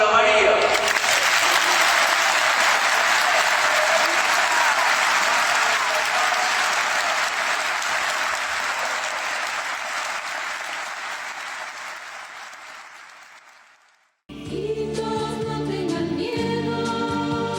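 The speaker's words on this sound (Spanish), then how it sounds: "Un aplauso para María." Audience applause fills the first fourteen seconds as loud, dense clapping that slowly fades out, then stops abruptly as a different section with music and a voice begins.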